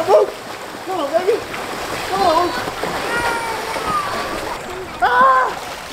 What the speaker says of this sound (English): we're about to do some laps in the pool with Mookie